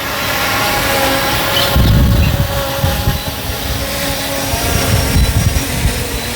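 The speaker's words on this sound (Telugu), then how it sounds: "డ్రోన్ అయితే ల్యాండ్ అవుతున్నది, చూడండి ఎంత బాగా ల్యాండ్ అవుతుందో" A V06 GPS drone lands: a steady whirring motor drone with rotor-like buzz, fairly loud and continuous, swelling slightly as it comes closer and settles.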